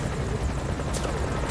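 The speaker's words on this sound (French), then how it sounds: "Ah, l'hélico se fait repérer à peine maintenant." Helicopter in Metal Gear Solid V: Ground Zeroes, a loud continuous rotor roar with rhythmic chopping close by, filling the whole moment without talk.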